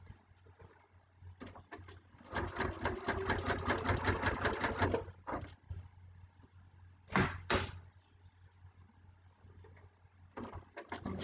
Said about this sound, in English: So I'm now going to sew.